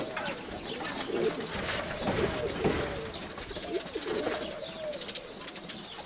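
Decorative pigeons coo repeatedly in a loft or aviary, their soft rolling calls overlapping close by amid steady background noise and rustling.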